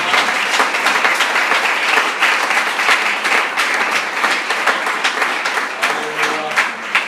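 A congregation at a French-speaking Christian church service applauds loudly and continuously, a full, close wash of clapping hands from many people, with a faint voice rising near the end.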